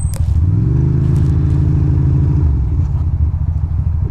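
A motorcycle engine runs loud and close, a steady low drone with a brief rise as it pulls away, then settles into a rumbling idle-like hum; no talking.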